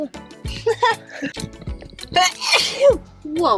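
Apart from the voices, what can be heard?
child sneezing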